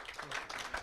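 A panel event audience applauding a health-tech venture capital speaker, a brief burst of dense clapping at moderate distance, with a faint voice mixed in.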